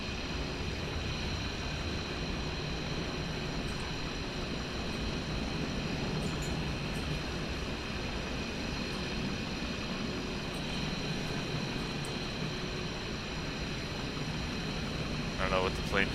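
Airplane noise drones outside the cabin at a Paderborn flight: a constant, muffled roar with steady hum, lasting unchanged throughout.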